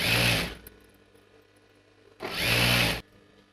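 A sewing machine stitches over piping on a dress sleeve in two short, loud, close bursts separated by a quiet pause of under two seconds.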